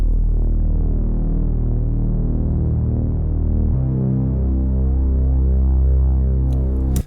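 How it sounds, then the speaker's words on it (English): A deep reece bass synth built in wavetable, heavily glue-compressed and saturated, drones loud and gritty with a slow throbbing phase wobble, its pitch dropping lower midway, playing alone without drums or voice. "Again, it's just the reece bass, which I've made in many of my videos."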